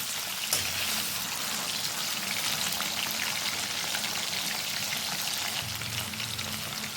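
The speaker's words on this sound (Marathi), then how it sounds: "अशा पद्धतीने आपल्याला चिकन फ्राय करून घ्यायचं आहे।" Chicken pieces fry in a few spoonfuls of oil in a kadai, giving a steady, dense sizzle that holds at an even level throughout, close and with no voices.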